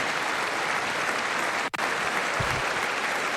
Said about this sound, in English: She's like the only one clapping.